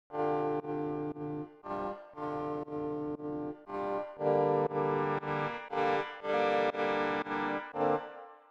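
A Surge XT synthesizer patch, a sine wave with FM, plays a sequence of sustained keyed notes with bright harmonic tones, each held roughly half a second, in a steady rhythm with no talking.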